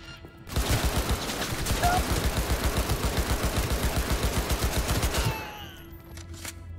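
Rapid automatic weapon fire in Cyberpunk 2077, a long steady burst of evenly spaced loud shots lasting several seconds before cutting off, followed by brief mechanical clatter and tonal game sounds.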